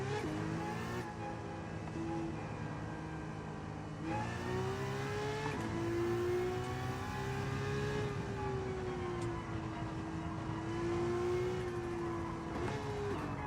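An older front-engine, rear-drive sports car in Gran Turismo 7 holds a loud, steady engine note that climbs and settles through the gears, a sustained revving drone with no voices over it.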